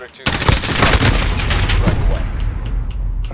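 AK rifle fire in Call of Duty Modern Warfare, a loud rapid burst of automatic shots starting abruptly and continuing densely to the end, close and dominant.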